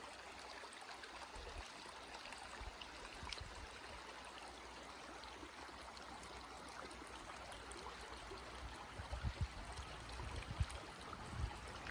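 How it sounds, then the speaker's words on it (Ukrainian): Water in the Repynka river in Transcarpathia flowing and babbling steadily in the open air beneath a suspension bridge, faint and continuous, with a few soft thumps toward the end. "Такий тут гарний звук води."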